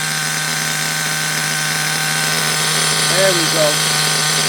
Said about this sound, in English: She's an old engine.